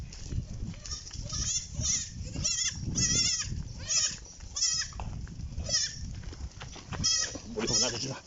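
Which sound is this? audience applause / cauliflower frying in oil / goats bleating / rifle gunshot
goats bleating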